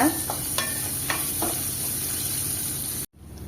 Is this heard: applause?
no